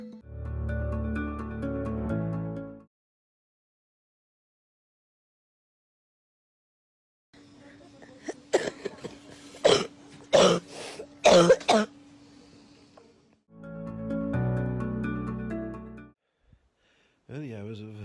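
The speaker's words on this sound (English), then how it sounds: "That's the cough." A few sharp, harsh coughs in a quick cluster, fairly close, with some throat clearing, set between stretches of talking before and after.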